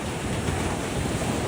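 Ocean surf on a gloomy day at Coney Island beach in Brooklyn, a continuous loud wash of waves mixed with heavy wind buffeting the microphone, with no voices.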